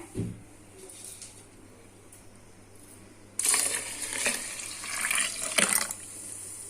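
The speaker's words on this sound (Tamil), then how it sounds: "அதனால 2 டம்ளருக்கு நான் 6 டம்ளர் தண்ணி சேர்க்க போறேன்." Water pours steadily into a pot with a broad, splashy rush that starts abruptly partway through, following a quiet stretch, and continues for a few seconds.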